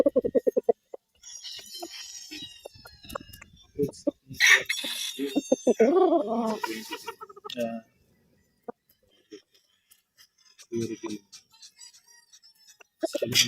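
At a gamefarm, a stag rooster crows and clucks close by in scattered bursts, including one strained, drawn-out crow, with short pauses between calls and people talking nearby.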